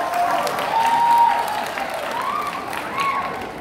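Applause from a school audience at an Indonesian madrasah farewell ceremony, a dense, steady wash of clapping from many hands that swells slightly near the middle and carries on to the end.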